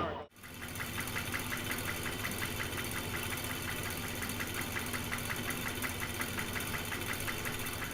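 A Harley-Davidson V-twin motorcycle engine idles steadily and close by, with a rhythmic, loping pulse that continues the whole time after a brief start.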